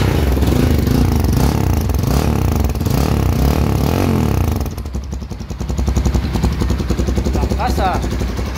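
A Tempest motorcycle engine running nearby, a loud throbbing rumble that drops back to a rougher idle partway through, with people talking over it.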